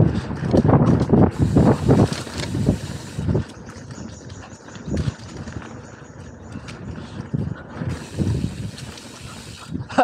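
Mountain bike pedaled along a trail during a group ride, with rhythmic mechanical clicking and rattling from the drivetrain, loud wind rush on the microphone and thumps of the bike over rough ground.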